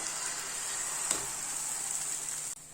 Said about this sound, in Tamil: இப்போ இதை இப்படியேவும் நம்ம பேன்ல போட்டுற வேண்டியதுதான்